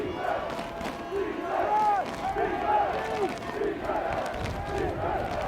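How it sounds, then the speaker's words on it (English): Crowd at a Division III college football semifinal in an outdoor stadium, Johns Hopkins against Wisconsin–River Falls, roaring and shouting steadily with swelling yells, with a commentator talking over the top. "The crowd that's here is making some more noise."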